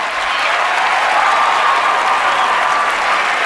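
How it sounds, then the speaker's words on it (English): A steady burst of applause from a small group, dense and even throughout, close and fairly loud with no talking over it. "Can we just take a moment and applaud Jay?"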